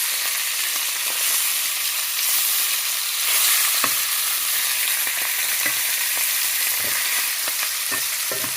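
Top sirloin steak searing with rosemary and thyme in a cast iron pan, a continuous close sizzle with scattered pops and spits over several seconds.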